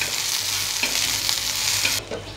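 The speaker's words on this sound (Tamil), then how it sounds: "சின்ன வெங்காயம் போட்டிருக்கேன் அதை நல்லா ஃப்ரை பண்ணிக்கணும்" Shallots and curry leaves fry in hot oil while being stirred, a steady close sizzle with a few scraping stirs of the spoon, no voices.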